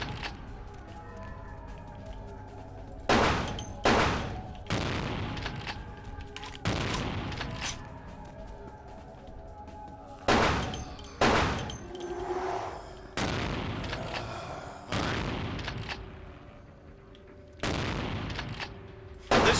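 Shotgun blasts boom in the vampire action role-playing game Vampire the Masquerade Bloodlines, a gun-only run. Heavy, sharp shots land every second or two across a steady, noisy combat backdrop, loud and close.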